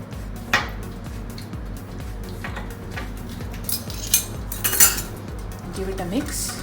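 A spoon mixing whole wheat jaggery cake batter with vanilla essence in a bowl, light clinks and scrapes against the bowl ringing out irregularly, with a few brighter knocks near the end, up close and without talk.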